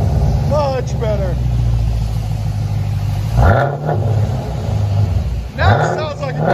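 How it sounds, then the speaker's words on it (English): A 2021 Chevy Camaro RS with a 6.2L LT1 V8 and Flowmaster Outlaw dual exhaust revs loudly up close, a deep rumble that swells twice through the clip while people talk over it. "Now it sounds like a Camaro."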